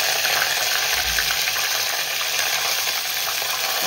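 Curry leaves hit hot oil with mustard seeds, cumin and asafoetida, giving a loud, dense, steady sizzle and crackle that fills the whole moment, with a brief low thump early on.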